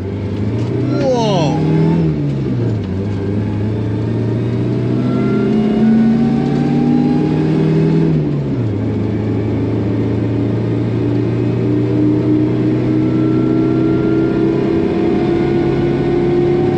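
A vintage 4WD Toyota Sunrader with a supercharged 3RZ engine pulls away, its engine note climbing in pitch through one gear, dropping at a shift, then rising again into a steady, loud drone from inside the cabin.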